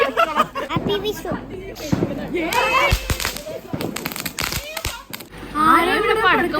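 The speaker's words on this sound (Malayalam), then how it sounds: "ആരാ ഇവിടെ പടക്കം പൊട്ടിച്ച്?" Firecrackers burst during a Vishu celebration, a few sharp bangs cracking out amid lively talking and children's chatter.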